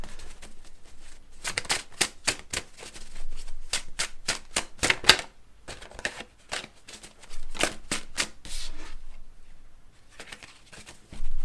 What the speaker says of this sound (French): Je vais tirer d'autres cartes